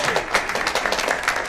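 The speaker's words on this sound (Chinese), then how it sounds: "此处应该有掌声来" A short burst of applause from a group of people claps briskly and fairly loudly for about a second and a half.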